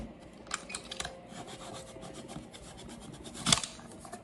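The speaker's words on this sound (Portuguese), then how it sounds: "eu vou pegar um estilete e vou só tirar esse excesso" Utility knife trimming excess HDF board from a picture frame, several light scraping cuts in quick succession, close and fairly quiet, ending with one sharper louder stroke.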